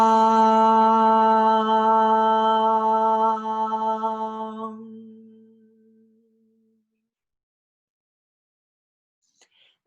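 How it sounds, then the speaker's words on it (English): Group chanting a single long Om at the start of a yoga class, a steady, harmonically rich tone that holds for several seconds, then fades gradually and gives way to silence. "Let's open with the Om sound"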